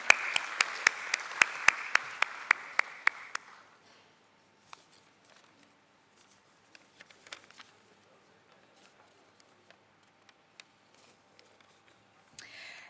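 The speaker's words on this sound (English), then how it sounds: "A round of applause," Seminar audience applauding esteemed guests at a taxation event for the stock broking industry; a brief burst of clapping with sharp individual claps fades after a few seconds into a quiet room with scattered small noises.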